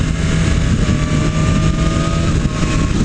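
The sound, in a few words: 2020 BMW S1000RR motorcycle exhaust at high RPM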